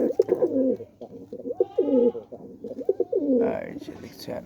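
Pair of pigeons or doves cooing in a repeated, rounded rhythm, close and fairly loud, with a person speaking at moments alongside the calls.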